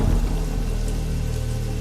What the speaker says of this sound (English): The sky was dark. Rain poured heavily.